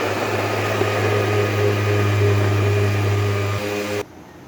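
A mixer grinder grinds cooked chana dal with a loud, steady motor whine and hum that runs for about four seconds, then stops abruptly, leaving a faint room tone.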